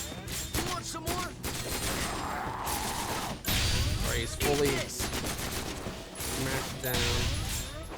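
Gunfire from Zephyr guns in Resonance of Fate, bursts of rapid shots and heavy impacts in several loud waves, close and punchy, with someone briefly speaking over the action.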